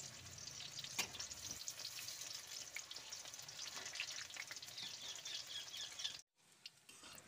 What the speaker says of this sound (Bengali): দেখুন এখন এই পকোড়াগুলো কিন্তু খুব ভালো করে লাল লাল করে ভাজা হয়ে গেছে